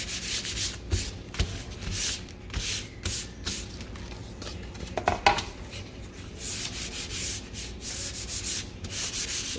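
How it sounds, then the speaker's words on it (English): A painted wooden shiplap sign being sanded by hand, with repeated rhythmic rasping strokes, fairly close and clear, and one brief louder scrape midway. "What you're going to do is give this a sand."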